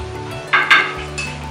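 Jitada fish, a Koli-style estuary fish, fries on a tawa, giving a close, soft sizzle with two brief louder bursts of spitting oil and a faint clink of a utensil near the end.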